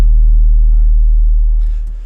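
A dry, subby Serum bass using the Mr. Clean preset with all effects removed holds one loud, deep, sustained low note that fades toward the end, with a faint click at the close.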